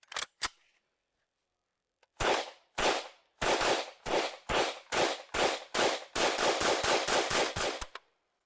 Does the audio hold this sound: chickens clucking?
no